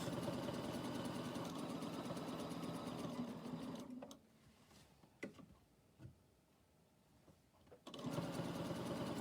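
A sewing machine stitches a quilt using ruler work, running in a fast, steady mechanical chatter, pausing for a few seconds with only light clicks, then resuming at full speed nearby.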